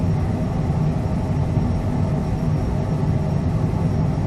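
Cessna Citation CJ4 jet engines on a takeoff roll in Microsoft Flight Simulator, a steady, loud, broadband roar and rumble that holds without break, heard alone with no talk.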